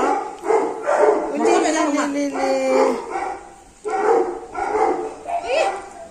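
A puppy among a litter of Labrador pups gives short yips and whimpering barks in bursts, close by, mixed with people talking.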